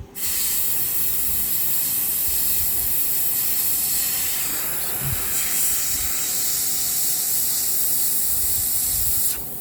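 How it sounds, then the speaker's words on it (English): An airbrush sprays paint onto a Storm Giant miniature, giving a steady close hiss of air that holds nearly unbroken throughout with no talking. "Just right in this airbrush."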